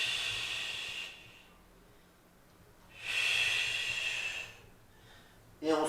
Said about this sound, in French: On expire, on respire profondément.